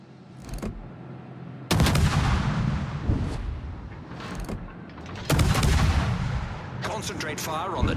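Heavy naval guns boom in a warship battle game, several deep, loud salvos with rumbling tails spaced a few seconds apart, with brief game voice lines between them.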